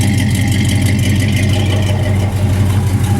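The engine of an all-stock, unmodified car idles, giving a steady, low rumble close by with no revving.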